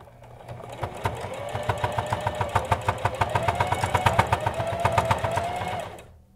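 A sewing machine stitches a fabric mask in a rapid, even run of needle strokes over a humming motor, speeding up as the pedal is pressed harder and then stopping abruptly.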